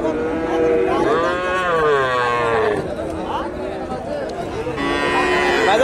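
A local deshi bull at a busy cattle market in Bogura, Hasokhali, gives loud, sustained moos up close, with the steady babble of the crowd beneath.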